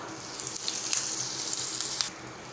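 Mustard seeds and urad dal sizzling in hot oil for tempering, a bright crackling hiss with small popping spatters throughout, then dropping off abruptly near the end.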